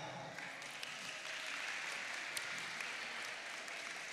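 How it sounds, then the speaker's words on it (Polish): Faint, distant applause in a hall at the opening of a national sport fitness championship in Gdańsk, an even patter of clapping sustained for several seconds at low level. "Wielkie brawa."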